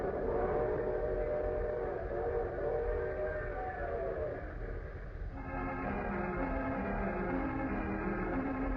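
A train sound effect from an old radio horror drama: a steady rumble of rolling wheels with a long sustained whistle tone that shifts pitch partway through, loud and continuous with no voices.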